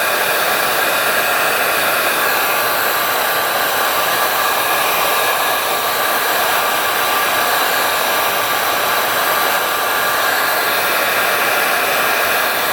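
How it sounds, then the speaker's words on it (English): A heat gun runs continuously at close range, a loud, steady airy roar with no breaks, while warming the rubber boot on a 400cc two-stroke dirt bike. "We might try to heat that up with the heat gun a little bit."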